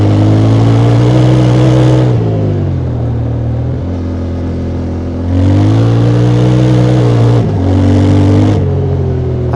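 Motorcycle on Bridgestone Battlax Adventurecross tires ridden fast off-road: a loud, close engine revving hard and steadily, with pitch rising and falling through gear changes and throttle lifts.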